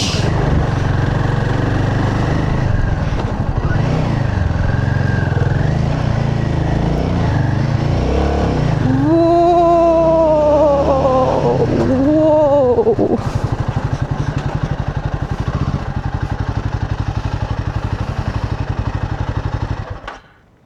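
Motorcycle engine on a mountain road, a loud steady drone close by with a couple of sharp revs in the middle, running continuously before cutting off at the end.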